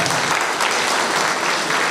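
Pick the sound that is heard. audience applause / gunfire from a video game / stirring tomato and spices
audience applause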